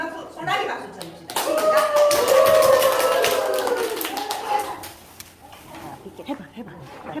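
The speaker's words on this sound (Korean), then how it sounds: "소나기 박수 쳐줍시다" Children in a Korean church kids' class clap together in a rhythmic rain-shower pattern, loud and dense for several seconds before tapering off, with children's voices mixed in.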